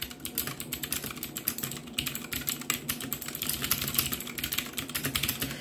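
Rapid typing on a budget 60% compact mechanical keyboard, unmodified, a dense steady clatter of close key clicks and thocks with no talking.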